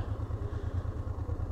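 A motorcycle idles close by at a foggy roadside stop near Trollstigen in Norway, its engine giving a steady, low, rhythmic throbbing with light mechanical clatter and no voices.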